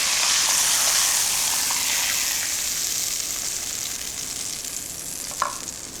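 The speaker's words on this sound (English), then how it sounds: "So we can deglaze the pan with some lovely white wine and get all those lovely juices off the bottom of the pan." White wine hitting a hot pan to deglaze beef juices for a beef shin casserole gives a loud, steady, close hiss and sizzle that eases slightly over time, with one brief clink near the end.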